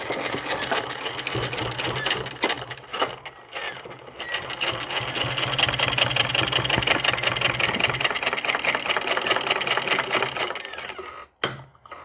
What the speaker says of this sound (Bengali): এখানে আমি একটু সেলাই চালিয়ে দেবো